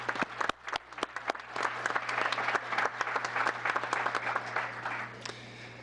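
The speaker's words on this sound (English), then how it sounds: "A nice round of applause for our scouts tonight." A room at a town council meeting applauds local scouts, uneven individual claps forming a modest round of applause with a steady low hum beneath, fairly close and unaccompanied by talk.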